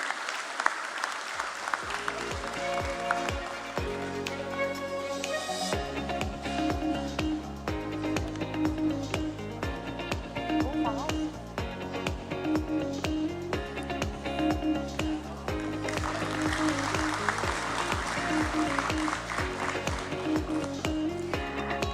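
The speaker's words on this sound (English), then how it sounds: "Please put your hands together for Shri Madhusudan Sahu, Public Interest Director" An audience claps at the NSDL listing ceremony at BSE, steady applause running beneath loud, rhythmic ceremonial music for over twenty seconds.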